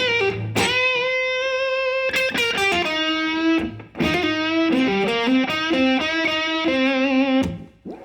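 An electric guitar plays a snaky slow blues lick with string bends and sustained, slightly distorted notes, close and alone with no talking.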